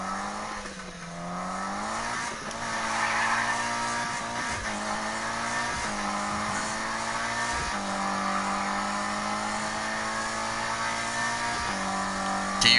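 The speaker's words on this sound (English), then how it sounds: "That's a Mitsubishi Lancer, dude." Mitsubishi Lancer engine in a PS4 racing game, a continuous loud drone rising and falling in pitch through repeated gear shifts, with possible tire noise.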